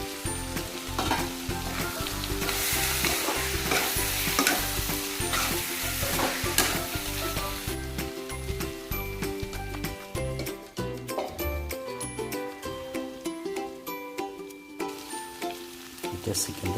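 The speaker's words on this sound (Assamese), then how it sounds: "এতিয়া চিকেনটো মই এনেকৈ অলপ সময় ভাজিম" Chicken pieces fry in a hot pan with a steady sizzle and occasional stirring, continuous throughout, partly under loud rhythmic background music.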